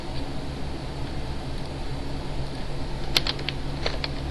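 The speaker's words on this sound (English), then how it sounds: "Now I'm typing Arial in there." Computer keyboard typing while entering an order on a point-of-sale system, soft rapid keystrokes over a steady fan-like hum, with a few sharper clicks near the end; no talking.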